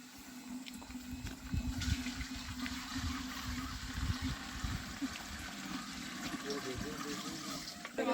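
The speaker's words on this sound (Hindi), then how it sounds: "देखिए आपके सामने इतने बर्तन लगा के एक साथ ये पानी खींच के निकालती हैं" Women at a village well in a Rebari hamlet draw drinking water with many vessels at once, giving a steady wash of splashing and pouring water with clattering, and murmuring voices underneath throughout.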